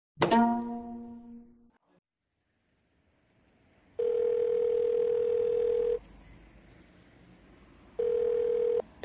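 Telephone ringback tone: a short chiming beep, a pause, then a steady two-second ringing tone, a quieter gap and a second ring starting.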